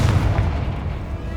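The Confringo spell from Hogwarts Legacy erupts in a dense, booming blast, a short burst of low rumble and crackle that fades over about a second, with no voice heard.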